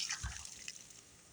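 Water flows from a Valterra Flush King RV tank rinser at an RV dump station, a soft, close hiss with a brief gurgling splash near the start before it settles into a steady trickle.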